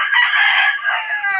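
A rooster crows once, loud and close, a drawn-out strained call lasting over a second.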